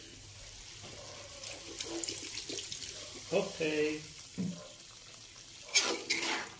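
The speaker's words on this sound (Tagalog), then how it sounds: "Kaunting tubig lang lalagyan natin." Water is poured from a pitcher into a cooking pot in a home kitchen, with a few irregular splashing, trickling bursts over several seconds, fairly close, while a person speaks briefly.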